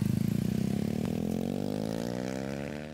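A motorcycle fitted with a loud aftermarket sport exhaust accelerates nearby, its rapid throbbing exhaust pulses rising in pitch over three seconds, loud and alone.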